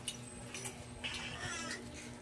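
Two kittens give a few thin, wavering meows at close range, with brief soft mews mixed with light background noise and a steady low hum.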